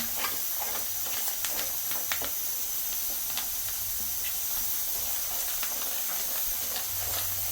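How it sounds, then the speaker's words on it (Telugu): Chili powder frying in a pan for village-style lemon pickle gives a continuous loud hiss and sizzle with small crackling pops throughout, with no voices. "ఒక్క నిమిషం ఈ కారం పచ్చివాసన పోయే వరకు ఫ్రై చేసుకోవాలి"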